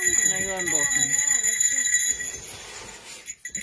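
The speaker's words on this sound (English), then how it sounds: "bear bells. They have a Velcro closure on them." Bear bells with a Velcro closure jingle steadily as they are handled, bright and continuous for about two seconds and close by, under a voice, then fade.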